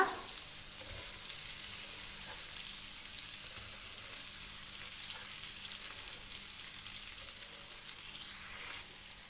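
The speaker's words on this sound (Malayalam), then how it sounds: "ഇനി സവോള പെട്ടെന്ന് വഴണ്ട് കിട്ടാൻ വേണ്ടിയിട്ട് ഒരു 1/2 ടീസ്പൂൺ ഉപ്പ് കൂടെ ചേർത്ത്" Steady sizzling of sliced onions frying in a hot pan, a constant bright crackle running throughout with no voices.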